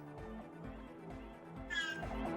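A cat meows repeatedly in the background, several short, faint calls in an uneven rhythm, with a brief higher squeak near the end.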